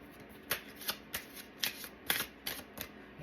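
A tarot deck being shuffled by hand, a rapid series of soft riffling card slaps and papery swishes at close range, fairly quiet with no talking.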